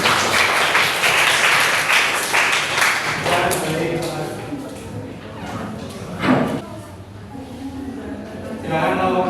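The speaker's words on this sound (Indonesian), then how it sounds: "Silakan beri tepuk tangan untuk Mas Herja." Scattered applause from a classroom of students for a presenter, fairly close and moderately loud, fading into a few claps and thumps with murmured voices.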